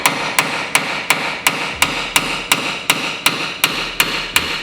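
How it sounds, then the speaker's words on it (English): Steady, evenly spaced metallic hammer blows, about thirteen in under five seconds, driving an anti-rotation piece onto an axle nut on a GR Corolla drivetrain, loud, close and ringing. "that part that I just hammered in is like an anti-rotation thing"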